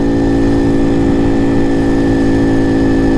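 A Honda CT70 clone motorcycle engine drones steadily and loudly while riding, a constant buzzing hum with a slight rise and fall in revs and no talking.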